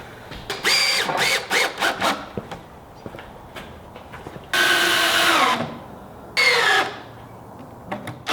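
Power drill driving long deck screws into a wooden picnic table base, heard as several short whirring bursts followed by two longer, louder sustained runs, close and alone.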